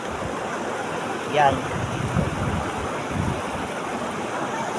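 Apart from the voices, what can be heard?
river stream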